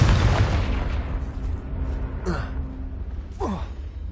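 A Confringo blasting spell detonates in Hogwarts Legacy, opening with a deep, rumbling boom that slowly fades. Two shorter whooshing magical bursts follow a second or so apart.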